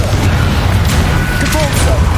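Explosive spell blasts from a Hogwarts Legacy battle, a dense continuous rumble of booming impacts and crackling debris filling the whole moment, loud and close amid busy combat noise.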